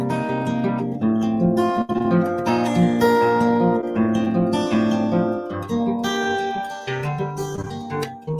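Acoustic guitar fingerpicking a song's chorus straight out of the verse, close and clean, with ringing bass notes under brighter plucked melody over about eight seconds and no talking.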